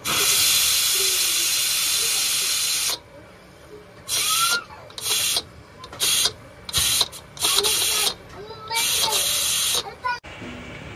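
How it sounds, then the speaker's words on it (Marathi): A pressure cooker full of cooking beans hisses loudly with steam for about three seconds, then releases a series of short, sharp bursts of hiss, with people talking between them. "मस्तपैकी शेंगा शिजवाय टाकले कुकरमध्ये"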